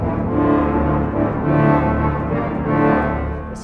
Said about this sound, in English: There's a double tuba major 16-foot.